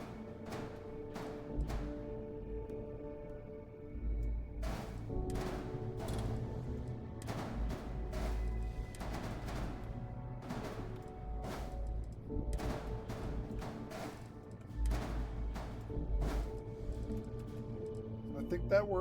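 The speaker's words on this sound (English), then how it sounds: "These are auto neutron turrets." Auto neutron turrets fire in a video game, a loose string of sharp repeated shots in irregular bursts over a steady low hum, with talk heard at times.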